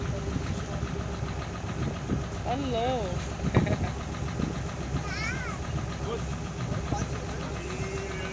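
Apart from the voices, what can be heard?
boat engine running at sea in Alexandria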